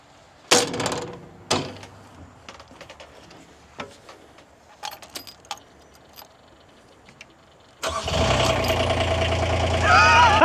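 A small Chinese-made mini skid steer engine cranks and catches near the end, settling into a loud, steady idle after several seconds of scattered clicks and knocks.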